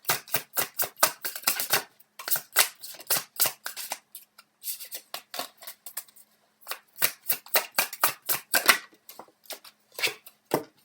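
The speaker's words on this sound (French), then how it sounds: "On va sortir une carte supplémentaire et après on va sortir donc les conseils de l'univers" Tarot cards are shuffled and drawn in quick bursts of crisp riffling flicks and slaps, close and fairly loud, with short pauses between rounds.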